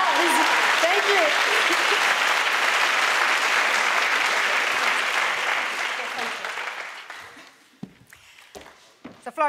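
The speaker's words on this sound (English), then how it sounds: "If you could give them a round of applause." Audience applause at an awards ceremony, dense sustained clapping from a large crowd that fades out over several seconds, leaving scattered footsteps and room noise.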